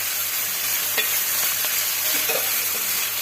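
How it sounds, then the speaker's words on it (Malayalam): Beef liver sautés in a pan with crushed garlic, ginger and green chilli, a continuous sizzle with occasional spoon scrapes and clinks. "കുറച്ച് നേരം വഴറ്റുക."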